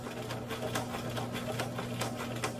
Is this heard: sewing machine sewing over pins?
yes